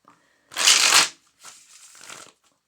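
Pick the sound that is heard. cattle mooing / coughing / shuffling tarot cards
shuffling tarot cards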